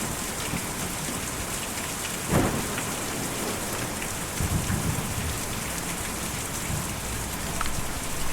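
Steady rain pours in the video game Kentucky Route Zero, with a sharp thunder crack partway through and a few softer rumbles later, no voices over it.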